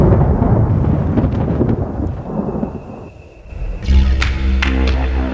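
Thunder in a lightning documentary, a loud, deep, rolling rumble that builds, fades and then breaks into a sharp crackling burst near the end, heard alone without narration.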